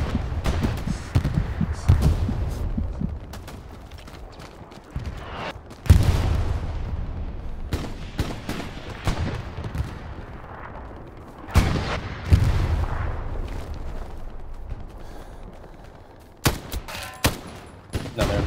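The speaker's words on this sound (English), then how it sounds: "Somebody else is shooting at me." Gunfire crackles through a Hell Let Loose battle, bursts of rifle and machine-gun shots with several heavy booms spaced through the stretch, echoing tails between them, and brief speech underneath.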